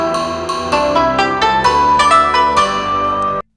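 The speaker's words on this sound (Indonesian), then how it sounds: "Jadi biar kayak background musik kalau di berita-berita gitu loh" News-style background music added in the Virbo app, a steady rhythmic track of bright repeated tones and regular beats, played alone at full level for a few seconds before stopping abruptly.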